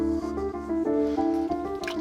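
Dish soap and food coloring pour into a homemade volcano with soft squishy glugs and drips, a liquid sound under a steady background tone.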